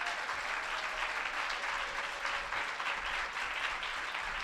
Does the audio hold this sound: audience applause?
yes